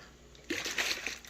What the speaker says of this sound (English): add in another 14 cups of water here